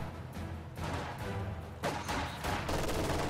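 Machine-gun fire from a strategy war video game sounds as quiet, distant broadband bursts that come in several rattling volleys with short gaps between them, and no talk is heard.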